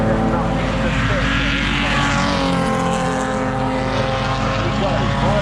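Historic race cars lap at the Goodwood Revival, a loud sustained engine roar that swells and fades as they pass, with a commentator talking over it.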